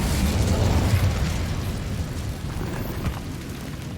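The Incendio fire spell in Hogwarts Legacy bursts into a loud, roaring whoosh of flame that swells at once, then fades into a crackling hiss over a few seconds.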